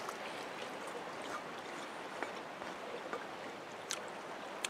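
Small brook flowing beside a creek-side brunch spot, a steady close wash of burbling water with faint splashes and ticks throughout, no voices.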